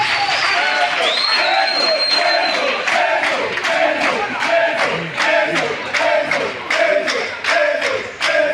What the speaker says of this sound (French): Applaudissez pour le président.